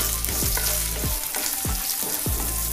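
Cumin, asafoetida, peanuts and curry leaves sauté in hot oil. A loud, steady sizzle runs throughout, with a spoon stirring in about five regular sweeping strokes.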